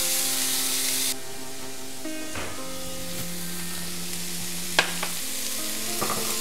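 Chopped tomato, green pepper and carrot sautéing in a pan for Jamaican curry shrimp, a steady soft sizzle with the odd stir or clink, with a bright hiss at the start that drops after about a second.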